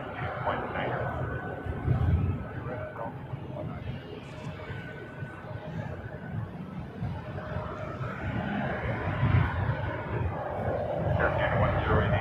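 Airliner engines during a departure at Toronto Pearson Airport, a steady, broad jet roar heard from some distance in gusty wind, with radio voices talking over it.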